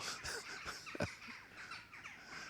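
A jackdaw gives several short, harsh, cawing calls in quick succession. They sound fairly faint, with no talking.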